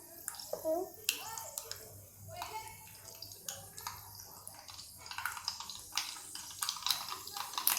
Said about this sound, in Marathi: मी अगदी मोहरी फुटेस्तवर आपण वाट पाहणार आहोत